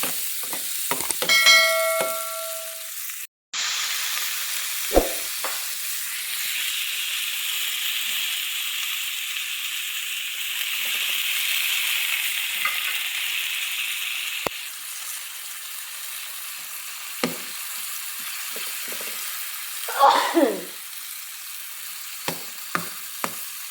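Garlic, onion, tomato, bell pepper and chili sauté in a pan, with a steady close sizzle throughout, a few metallic clinks and scrapes of stirring, and a brief ringing tone at the start.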